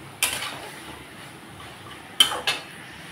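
Peas are stir-fried in a pan: a few sharp metallic clinks and scrapes of a utensil against the cookware, separated by a quiet background sizzle.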